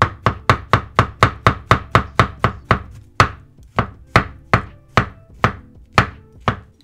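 A knife chops soft mushrooms on a cutting board in a fast, steady run of crisp close taps, then slows to spaced single cuts, loud and clear with no talking.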